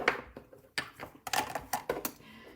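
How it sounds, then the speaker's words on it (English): A rubber stamp pressed onto Pool Party blue cardstock for a springtime treat box, heard as a few sharp, close taps and knocks spaced through a quiet tabletop scene. "I'm going to stamp it right on my piece of Pool Party"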